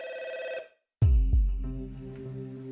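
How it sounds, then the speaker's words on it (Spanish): An old landline telephone rings loudly in a home, a sustained electronic trill that stops, then a louder burst with a strong low thump follows and rings on. "El teléfono sonó y yo contesté."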